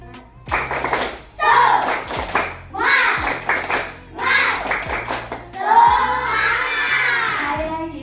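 Schoolchildren in an Indonesian classroom perform the tepuk semangat clapping chant, bursts of rhythmic group clapping alternating with shouted chanting in several loud close rounds.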